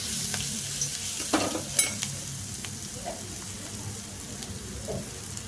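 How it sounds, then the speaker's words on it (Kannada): Tomatoes with chili powder fry in a pan with a soft, even crackling sizzle, a few light utensil taps and stirs rising briefly above the steady hiss, with no voices. "ಟೊಮೆಟೊ ಎಲ್ಲ ಸಾಫ್ಟ್ ಆಗಬೇಕು, ಅಲ್ಲಿವರೆಗೂ ಚೆನ್ನಾಗಿ ಇದನ್ನು ಫ್ರೈ ಮಾಡ್ಕೋಬೇಕು"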